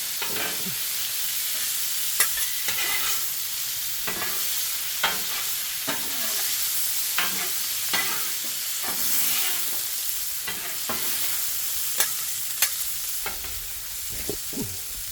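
Bacon fried rice sizzling on a flat griddle while two spatulas stir and chop it, with a steady loud fry broken by repeated sharp metal scrapes and clacks at irregular intervals, close up and without voices.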